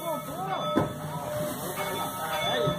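Maria Fumaça steam train passing in Corupá, a rumbling hiss of rail noise with squealing, whistle-like tones, heard at moderate distance with people chatting nearby.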